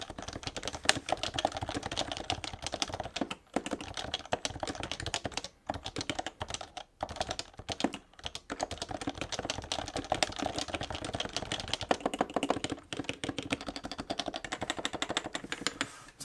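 Continuous fast typing on a black, blank-keycap Happy Hacking Topre keyboard, a dense, even patter of soft key thocks, close and fairly quiet with no voices.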